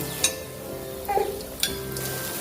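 Sweet banana wheat paniyaram made with jaggery fry in a pan, a steady close sizzle broken by a couple of sharp clinks and a brief bubbling flare as they are turned.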